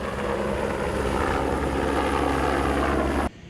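A rescue helicopter carrying an injured truck driver to a hospital in Maceió, its rotors and engine making a loud, steady thrumming drone that cuts off abruptly near the end.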